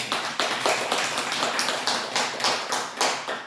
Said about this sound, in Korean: 주님께 영광의 박수 돌리십시오